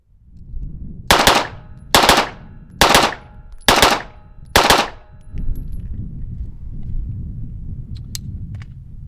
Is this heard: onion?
no